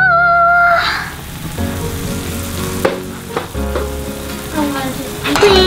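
Mushrooms for goat cheese tarts sauté in a hot pan with a steady, close sizzle and occasional stirring scrapes, with a few faint whistling tones at the start and end.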